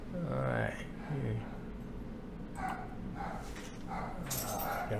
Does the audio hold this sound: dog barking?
yes